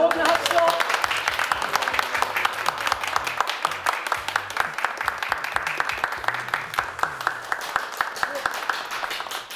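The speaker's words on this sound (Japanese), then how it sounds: "どうぞ皆さん大きな拍手を" Audience applause at a Japanese NASCAR 2024 full-season entry announcement event, steady dense clapping throughout the stretch with scattered sharp claps, loud and sustained, with a voice briefly over it at the start.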